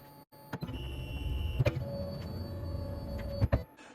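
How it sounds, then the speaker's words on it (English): Onefinity CNC Journeyman X-50 machine homing: a steady, close electric motor whine with a sustained tone, broken by a few brief clicks and knocks as the axes seek their home positions. "Let's home the machine."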